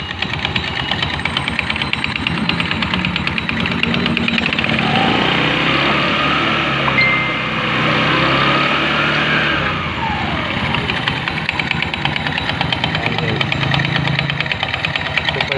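A motorcycle engine idling noisily with a loose, worn side belt, a steady close rattling drone with a knocking, slapping undertone that continues throughout without a break.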